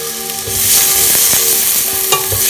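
Onions stir-fried in a pan give a loud, dense, continuous sizzle close up, with occasional scrapes and light taps from stirring and no one talking.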